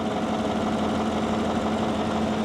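A GM 5.3-liter V8 in a Volvo XC90 R-Line idles smoothly and steadily, a close, constant low rumble with an even hum and no talking.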